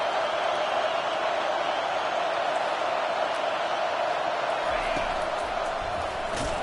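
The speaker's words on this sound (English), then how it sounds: "This crowd knows when to bring it." A stadium crowd in the College Football 25 video game, a steady dense roar of cheering that holds evenly throughout, with a commentator's voice faintly under the noise.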